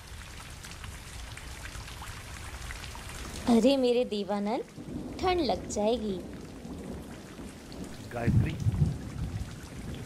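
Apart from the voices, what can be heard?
rain falling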